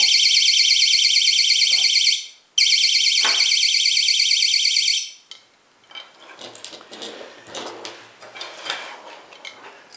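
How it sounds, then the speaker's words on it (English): A homemade mousetrap alarm built with a reed switch and magnet blares a loud, shrill electronic tone that cuts off briefly, resumes, then stops, followed by quiet metallic clicks and handling noises. "Magnet away. Alarm turns on."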